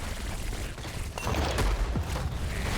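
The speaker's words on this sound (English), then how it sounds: "I'm just gonna send some grenades towards them" Tychus lobs grenades in Heroes of the Storm, making a quick run of muffled bursts and pops over busy game noise, with a few sharper blasts standing out toward the end.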